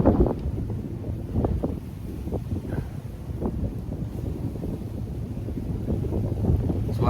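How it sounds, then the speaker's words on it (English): Heavy wind buffets the microphone in low, rumbling gusts that thump and roar continuously, with no voices over it. "It's windy as hell out here."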